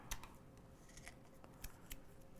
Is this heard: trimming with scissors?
yes